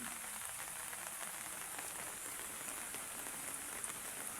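Heavy rain falls continuously at night in a dense, even hiss over a flooded street, with no voices.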